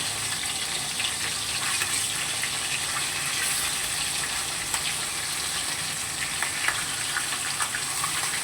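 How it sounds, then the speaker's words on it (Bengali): Fish shallow-frying in a pan after being flipped, a dense, steady, close sizzle of hot oil running evenly throughout with a few small pops, no voices. "এবার দেখো মাছটাকে আমি উল্টিয়ে দেবো, একটু হালকা করে করে ভাজবো"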